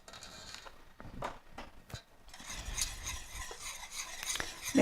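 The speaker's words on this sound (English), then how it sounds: "I'm going to mix in my brown sugar" Brown sugar being stirred into melted butter in a pot taken off the heat, wet scraping and stirring strokes in an uneven rhythm, close and quiet with no speech.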